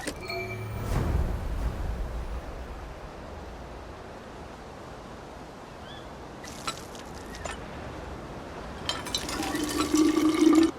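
Water pump in a video game gurgling and splashing as it fills, a steady wash of running water broken by a few sharp clanks and a brighter rush near the end, moderately loud with no talk.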